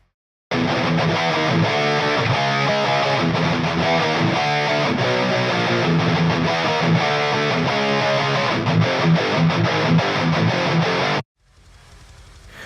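Double-tracked metal electric guitar recorded with free plugins plays dense, heavily distorted riffs for about eleven seconds, loud and unbroken, then cuts off abruptly into faint room hiss.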